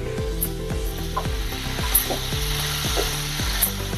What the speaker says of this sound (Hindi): चम्मच से ऐसे हिलाते जाइए।